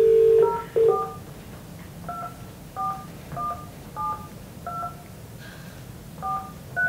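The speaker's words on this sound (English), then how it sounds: "I'm gonna call Matt right now" Telephone keypad dialing for a live phone call, a quick run of short two-tone beeps at an uneven pace after an opening longer tone, clear and close with a quiet background.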